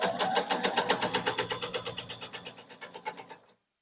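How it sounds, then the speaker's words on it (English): A sewing machine stitches quilt squares for a kitchen tile quilt block, a steady rapid run of even mechanical stitch pulses that stops abruptly near the end, close and clear with no talking. "just follow along that when you sew"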